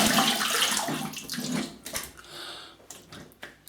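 A razor is rinsed under a running tap during a shave. Water splashes and patters in short, uneven bursts, quiet and close, with no voices.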